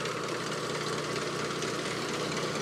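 A lawn mower engine on a golf-course green runs at full throttle in a constant, dense, buzzing drone, close and loud, with no talk.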